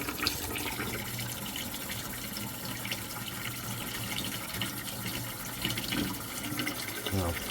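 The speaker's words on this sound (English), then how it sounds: "just let the cold water run in nice and easy at first" Cold tap water runs into a pot of boiled eggs, a steady gushing and splashing fill with occasional clinks and shifts in flow, heard beneath a nearby voice.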